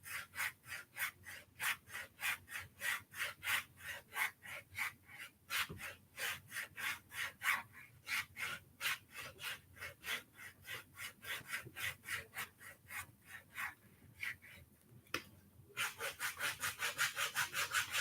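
A foot file rasps dead skin off during a pedicure in steady, rapid back-and-forth strokes, close and soft, with a brief pause before the strokes pick up faster.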